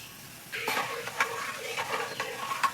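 Nigella seeds hit hot mustard oil, and a sudden close sizzle bursts up after a quiet moment. Light crackles and a few spoon taps against the pan continue over it.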